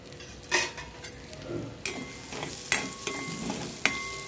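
Food frying in oil in a kadhai while being stirred, with a soft sizzle under repeated sharp scrapes and knocks of a spoon against the pan, close and without talk.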